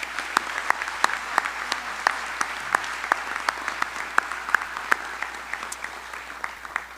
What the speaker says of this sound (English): How about a round of applause for Patrick Baker?